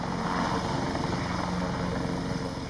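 A helicopter during a fast-roping operation at sea gives a steady, loud roar of rotor and engine that stays unbroken and even for the whole stretch, with no voices.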